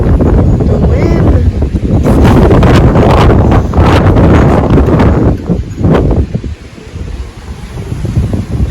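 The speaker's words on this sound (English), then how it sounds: "Like, oh my God. The wind." Strong hurricane wind from Hurricane Laura roaring in a loud, continuous rush with gusty buffeting against the microphone, easing slightly toward the end.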